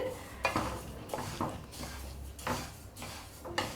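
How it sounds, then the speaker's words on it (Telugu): Sesame seeds stirred and dry-roasted in a pan for sesame laddu, with soft scraping and rattling strokes repeating every second or so at close range, fairly quiet and with no talking. "ఇలా కలుపుకుంటూ వేయించుకోవాలి"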